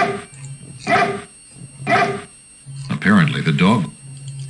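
In the King's Quest VI video game, a dog gives three separate barks, evenly spaced and close up, with no talking.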